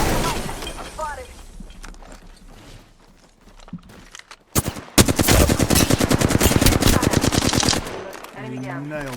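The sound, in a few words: gunfire in the Apex Legends video game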